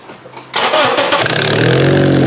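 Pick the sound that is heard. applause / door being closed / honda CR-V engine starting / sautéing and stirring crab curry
honda CR-V engine starting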